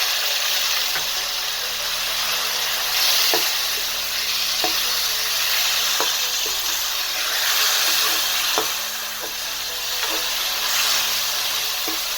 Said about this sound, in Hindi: साथ में थोड़ा सा पानी शामिल कर दें।